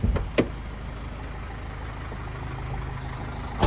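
A 2014 Opel Vivaro 2.0 van engine idles steadily at close range, with a brief thud and clunk near the start and again at the end, like the air conditioning compressor clutch engaging.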